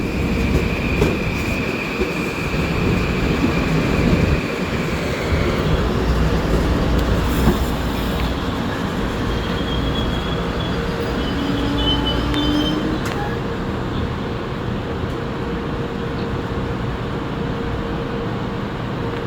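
A Kawasaki-built Metro-North commuter train passes through New Rochelle station, a steady loud rumble of wheels and cars with faint squeal tones, sustained for the whole stretch without speech.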